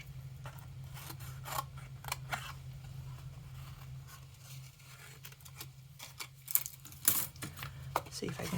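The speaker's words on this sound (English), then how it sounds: "In fact, I think I want to trim this up a little bit." Scissors trimming a paper greeting card during papercraft, a few quiet snips and rustles over a steady low hum, louder clipped cuts toward the end.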